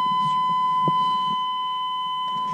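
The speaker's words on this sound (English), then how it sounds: "I'm sure you noticed how loud the buzzer is for warning you that you left your headlight switch on" Headlight-on warning buzzer in a square body Chevy truck, a loud, steady, unbroken electronic tone that holds for the whole stretch, with a faint thump partway through.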